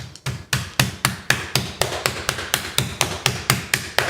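Pork loin being pounded flat with a cast iron pan, a steady run of about fifteen heavy, evenly spaced thuds close up, loud and with no voices.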